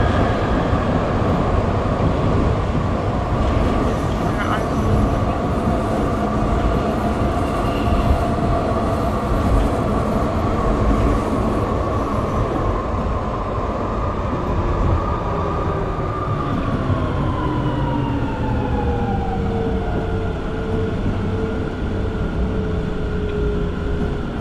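A Frankfurt U-Bahn subway train rumbles steadily and loudly throughout, with a whining pitch that slowly drops toward the end as it slows.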